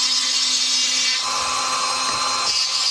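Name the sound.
grinding through fire agate stone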